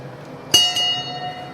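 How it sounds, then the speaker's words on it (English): A bell in a glassblowing studio struck twice in quick succession, bright ringing tones that sustain and slowly decay against a quiet background hum. "Oh, and the bell rung."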